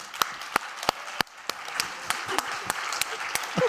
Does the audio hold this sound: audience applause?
yes